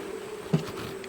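Honey bees hum around an open hive with a low, steady drone, one bee passing close by with a brief louder buzz.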